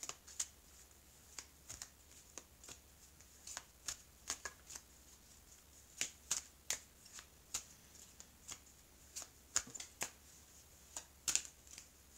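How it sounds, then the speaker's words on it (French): Oracle cards, from a mirror-themed deck, are cut and shuffled in a fast, irregular run of crisp papery snaps and flicks that continues close-up with no talking. "je vais couper, je vais tailler les cartes"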